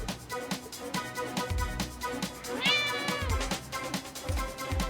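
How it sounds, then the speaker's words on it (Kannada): A cat meows repeatedly in a drawn-out, rising and falling call, heard clearly over a rhythmic background beat of music. "ಓಹೋ, ಅದೊಂದು ಬೆಕ್ಕು."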